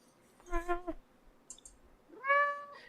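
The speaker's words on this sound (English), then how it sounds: "my cat just meowed in the background" A cat meows twice in the background, first a short wavering meow, then after a pause a clearer rising and falling one, with a faint click between them.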